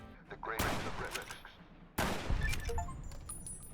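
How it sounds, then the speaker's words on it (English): Rifle shots ring out in the video game Fallout New Vegas: two sharp, loud reports about a second and a half apart, each trailing off in echoing rumble. "My first shot missed, but luckily I got him with my next shot."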